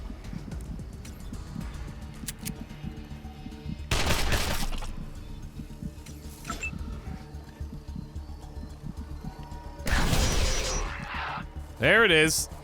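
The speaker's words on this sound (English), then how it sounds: "But we managed to get off a couple shots with it here." Gunfire in the video game Wasteland 2 comes as two loud, sharp bursts several seconds apart, with a player talking throughout and a brief higher-pitched game sound at the end.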